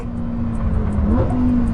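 Lamborghini Huracán STO prototype engine droning steadily with a rise in pitch partway through, a close, sustained mechanical hum with no talking.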